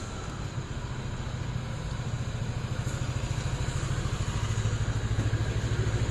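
A motorcycle engine idles and putters close by at a roadside election checkpoint before dawn, its steady rapid pulsing beat growing slightly louder, with no voices.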